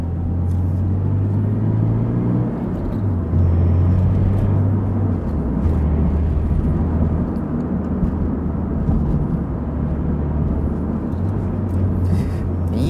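A Subaru BRZ fitted with STI parts drives along, its engine giving a steady, loud low drone with a continuous road rumble throughout and no voices.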